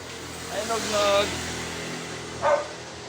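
A dog barks twice at a pet food shop, with one bark early and another a moment later, against steady background noise and voices.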